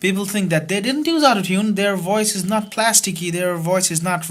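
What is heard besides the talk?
No distinct noise like a dog, phone or traffic.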